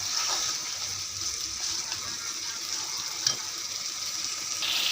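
Ingredients for biryani sauté in a pan, a continuous close sizzle and hiss with a faint stir or scrape now and then, steady throughout and without speech.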